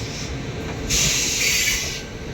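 Shri Ram Superfast Express train moving along the rails, giving a steady low rumble with a bright hissing rush that swells partway through and then settles, heard alone without voices.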